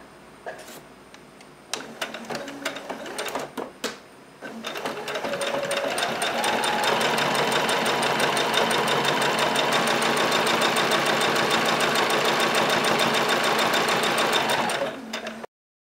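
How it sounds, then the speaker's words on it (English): A domestic sewing machine runs a straight stitch around the edges of a simple baby blanket, a few short taps and bursts at first, then a steady loud whirring hum for about ten seconds before it stops. "I'm going to sew a straight stitch around all 4 edges"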